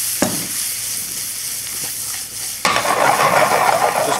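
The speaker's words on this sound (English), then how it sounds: "Just gonna give this a toss, 2 or 3 minutes just to reheat everything through" Already cooked green beans and ravioli reheat in a hot pan, a steady sizzle that swells suddenly louder partway through as the food is tossed, close and constant with no talking.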